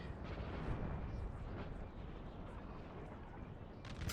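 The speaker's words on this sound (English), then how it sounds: "The artillery just flattening these infantry." Artillery fire in a Napoleon: Total War battle, heard as a dense, continuous rumble of distant cannon blasts blending into one steady roar throughout.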